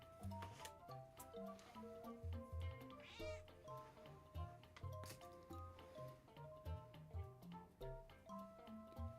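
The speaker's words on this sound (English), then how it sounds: "Sorry everyone, I'm having a troublemaking cat apparently." A house cat meowing indoors, with one clear drawn-out meow near the middle over a steady backdrop of rhythmic music and soft tapping.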